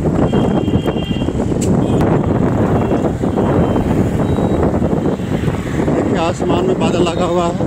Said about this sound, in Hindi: बादल लगा हुआ है, बारिश होने वाली है और तेज हवा भी साथ में चल रही है।